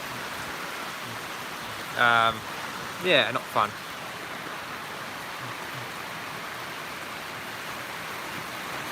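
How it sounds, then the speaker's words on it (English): Heavy rain pours outdoors in Melbourne during flooding, a constant loud hiss of falling water across the whole stretch, with someone speaking briefly over it. "It's raining hard in Melbourne"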